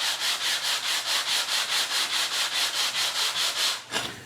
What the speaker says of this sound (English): I'm just going to take it on a 100 grit very flat sanding surface